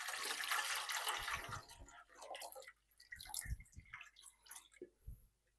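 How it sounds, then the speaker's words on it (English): Water splashes and pours into a double boiler holding mason jars, a burst of running water followed by scattered drips, sloshes and small knocks, fairly faint and close. "There we go. Let's add the water."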